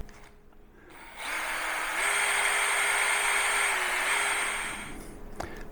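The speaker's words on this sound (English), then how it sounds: "I'm just going to drill through" A power drill whirs steadily for a few seconds, its motor pitch rising slightly mid-run before spinning down; quiet room around it.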